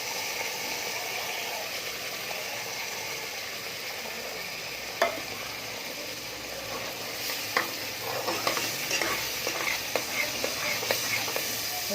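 Coconut masala paste frying in oil in a pan for Sangli-style chicken curry, a steady soft sizzle with occasional scraping stirs and clicks of a spoon growing more frequent toward the end, no talking.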